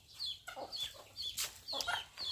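Chickens cluck close by in a rapid, irregular run of short calls, with a few sharper squawks between the steady chatter.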